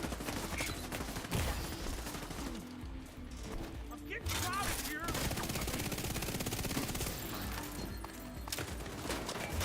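Gunfire in The Division 2 during PvE combat, with dense, repeated shots and bursts over a busy mix of game noise throughout, heard under talk.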